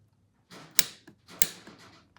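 Ratcheting clicks from a torque wrench tightening a bolt to 22 foot-pounds on a Yamaha YFZ450 bottom-end engine, two sharp click bursts amid short mechanical rasps, close and fairly quiet with no talking.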